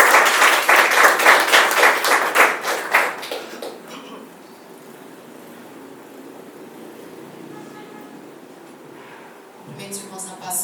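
A church congregation claps in a quick, loud, rhythmic pattern for about three seconds, then the clapping fades away into a quiet room with low background noise. A few faint claps return near the end.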